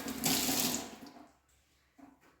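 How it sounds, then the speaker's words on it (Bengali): Hot water poured into a semolina upma mixture, a close splashing gush that swells quickly, fades over about a second, and is followed by a short second splash. "আমি এখানে গরম জল দিয়ে দেবো"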